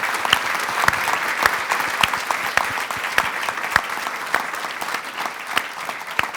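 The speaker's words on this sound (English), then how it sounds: "Take a round of applause" A lecture-hall audience applauds after a public economics lecture, with brisk, dense clapping that stays loud and steady throughout and a few sharper individual claps standing out.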